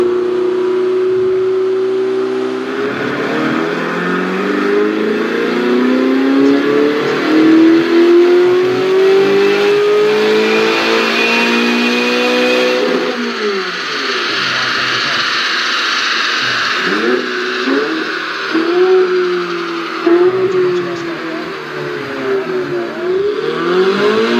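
A car with a four-stroke engine revs up and down repeatedly, its pitch climbing and falling in long sweeps, loud and continuous.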